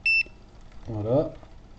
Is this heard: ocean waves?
no